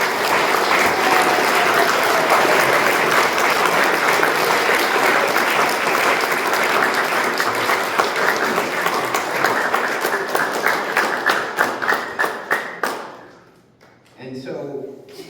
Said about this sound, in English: Give Coach Hutt a big round of applause.